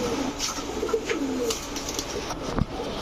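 Pigeons in a loft, including a white-bodied red-neck Budapest hen, give soft, low cooing calls close by over a light background hiss.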